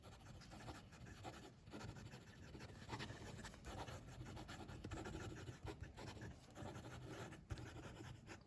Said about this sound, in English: Let's try some fast writing.